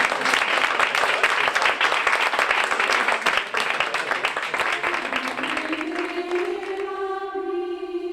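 A crowd at a book translation presentation claps steadily in warm, sustained applause that gradually fades while a held musical tone rises underneath toward the end.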